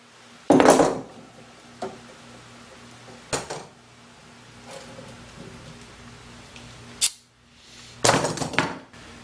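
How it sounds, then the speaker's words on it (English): Wooden clamps being loosened and taken off a freshly glued old oak chair during repair, giving a few sharp clanks and knocks spaced out over a quiet room, the loudest near the start and end. "let's take some clamps off"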